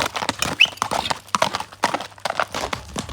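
Hooves of a grey horse clip-clop in a quick, uneven rhythm of sharp, close strikes, with no voices heard.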